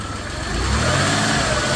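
A 1991 Dodge Caravan engine, just revived after sitting for years, revving close by with a steady, loud mechanical roar that climbs and holds briefly, with no voices.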